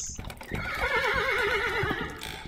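A horse in the video game The Supper gives a loud, wavering whinny lasting over a second, close and clear, with faint hoof clip-clop underneath.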